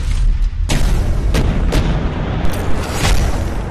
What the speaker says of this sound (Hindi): फटेगा ना, बहुत धमाका आवाज होगा और बहुत तेज होगा।